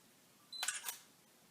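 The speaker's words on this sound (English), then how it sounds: "And you heard the shutter click for the camera." Sony A5000 camera shutter fires once, a short quiet double click preceded by a faint focus beep, close up against a soft background hiss.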